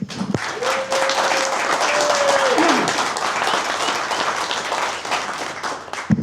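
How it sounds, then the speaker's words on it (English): Applause fills the room at a car club meeting at a classic car restoration shop in Beverly, a sustained burst of many hands clapping with a brief voice at the start. "A round of applause for her."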